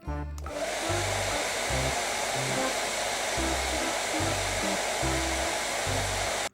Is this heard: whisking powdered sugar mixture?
no